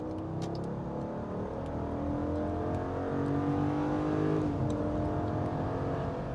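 A 2022 Jeep Grand Wagoneer with its 6.4 HEMI engine pulls hard under full throttle, a low rising engine drone building steadily from inside the cabin with no talk over it.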